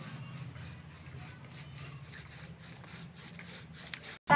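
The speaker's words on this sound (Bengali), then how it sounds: "তাই আমি শিল নোড়াতেই বেটে নেব আর বড়া বানাবো" A stone muller grinds fish paste on a stone shil nora slab, giving a soft, rhythmic, gritty rubbing that repeats back and forth at close range before a sudden knock at the end.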